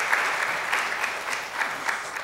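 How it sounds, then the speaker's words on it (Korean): A church congregation applauds together to welcome new members, a steady, dense round of clapping that fills the room from start to finish at even loudness, with no voices over it. "한번 우리 박수로 맞이해 주세요"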